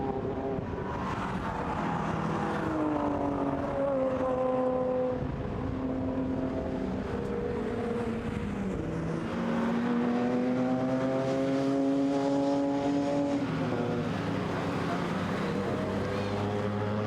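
BMW race cars, 325i and M3 GTR models, drive past at Zandvoort circuit, a continuous engine drone with rising and falling pitch as cars pass, under steady commentary.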